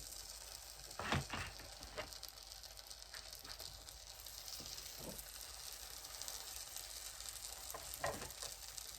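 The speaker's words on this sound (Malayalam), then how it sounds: "നമ്മൾ ഉണ്ടാക്കിയ ആ റാപ്പിനെ ഈ ബട്ടറിലോട്ട് വെച്ച് ഒന്ന് ജസ്റ്റ് ചൂടാക്കി എടുക്കുന്നു" A wrap heating in butter in a pan gives a faint, steady sizzle throughout, with a few brief louder crackles and stirring bumps and no voices.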